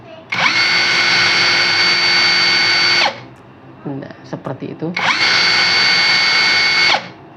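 A Kamolee DTW500 impact wrench runs at its fastest speed setting: two loud, close, high-pitched whirring bursts of about three seconds each, separated by a short pause in which someone speaks briefly.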